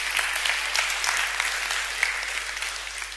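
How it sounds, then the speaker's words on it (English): Steady audience applause at a music conference workshop, a dense wash of clapping at a moderate level that holds for about three seconds with no talk over it. "Give her a round of applause."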